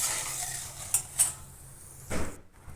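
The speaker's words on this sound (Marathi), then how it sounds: "उरलेल्या तेलात आपण मेथी दाणे व्यवस्थित तळून घेणार आहोत." Fenugreek seeds frying in oil while a spoon stirs them, with a few sharp metallic clinks and scrapes against the pan over a faint background sizzle.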